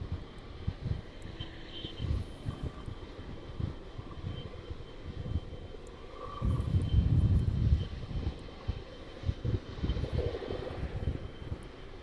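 A jet airliner rumbles on final approach at East Midlands Airport, a low steady engine roar from some distance that swells noticeably midway before easing off again.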